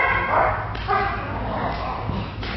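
Police K9 dog barking and yipping during training at a K9 academy, several close, energetic barks in a short burst with people talking over them.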